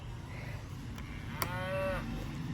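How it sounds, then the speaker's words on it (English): A toy plays a recorded cow moo, one short drawn-out low call preceded by a couple of clicks, faint and thin against quiet room noise. "Cow says moo."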